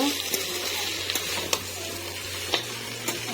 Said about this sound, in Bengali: এ পর্যায়ে আমি সোলার বুট দিয়ে দিলাম সেদ্ধ করে ভালো করে পরিষ্কার করে ধুয়ে নিয়েছি দিয়ে নাড়াচাড়া করে নিব